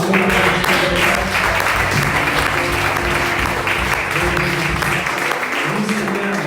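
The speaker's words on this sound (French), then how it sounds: "Applaudissons sa parole." A church congregation applauds during a French-language worship service, loud continuous clapping with a crowd murmur and voices mixed underneath, holding steady throughout.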